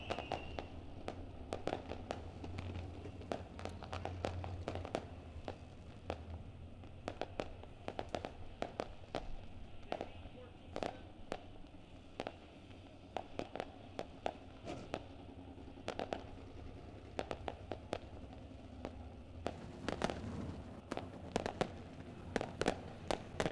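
Lone Wolf Fireworks bursting over Ohsweken Speedway on a Friday race night, a long run of sharp pops and crackling bangs in irregular clusters, moderately distant over a low murmur of crowd and engines.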